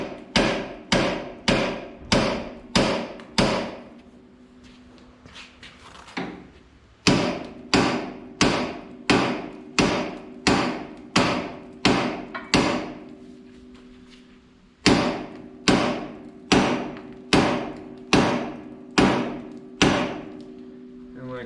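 Hammer blows on a tractor tie rod of a 1970 Minneapolis Moline U302 propane tractor, struck to work it loose: close, sharp metallic strikes in regular bursts of about five to seven, separated by short pauses.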